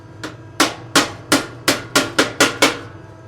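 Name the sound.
hammering metal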